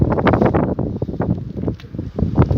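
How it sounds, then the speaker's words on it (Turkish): Outdoors, strong gusty wind buffets the microphone in a loud, low rumbling roar that surges and dips irregularly throughout. "Rüzgar var şimdi"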